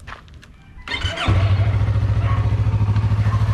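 A 2020 Yamaha R3 motorcycle cranks briefly with a clatter and then fires up, settling into a loud, close, pulsing idle with no talk over it.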